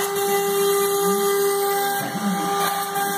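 A CNC router cuts shapes out of lite ply for a Marabu RC plane, a steady high-pitched spindle whine with a constant tonal hum, and brief shifts in pitch as the bit bites into the wood.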